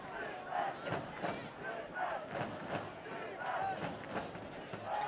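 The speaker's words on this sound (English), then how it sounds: "Crowd starting to get into it." At a high school varsity football game, a crowd cheers and shouts in rhythmic rising swells. It sounds distant and fairly faint.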